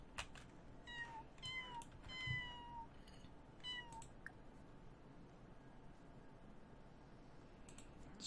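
Kitten in The Sims 4: Cats and Dogs meows for food in a quick series of short, high, thin cries over the first four seconds. Faint clicking and low background hum continue afterward, and no one talks.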